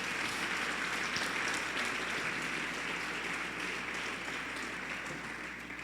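Congregation in a church service applauding, a thick sustained roar of clapping from a large crowd at steady volume over a low background hum, slightly easing toward the end.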